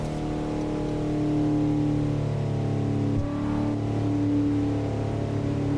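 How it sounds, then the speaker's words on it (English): A Cadillac CT5 car driving through LA canyons: a steady, close engine drone with layered harmonic tones that swell slightly and dip briefly midway, continuous and alone with no talking. "The CT5e, that's what I'm driving right now."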